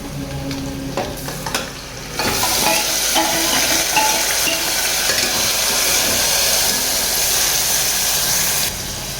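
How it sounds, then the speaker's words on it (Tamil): Marinated mutton sizzles and fries in masala in a pan while a mutton kuzhambu is being made, a loud steady hiss that surges after a couple of seconds and continues with stirring scrapes, no talk. "இப்போ நம்ம ஊற வச்சுருக்க மட்டனை இதில் சேர்த்துக்க போகிறோம்."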